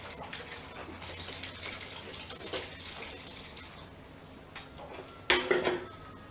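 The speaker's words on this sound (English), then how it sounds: "I'm going to put in a little bit of iced tea." Iced tea is poured into a cooking mixture, a brief close splash and gurgle near the end after quieter kitchen rustling; no voices.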